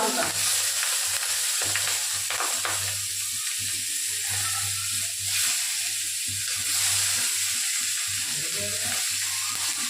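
Green chillies and ridge gourd hit hot oil in a pan for a Bengali bata fish curry, sizzling and crackling steadily up close over a low hum, with occasional stirring scrapes.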